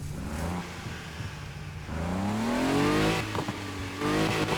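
Stock 2.9 V6 engine in a Skyline 2000 GTR in Need for Speed Heat revs up in a rising, loud roar, drops back, then climbs again, heard alone.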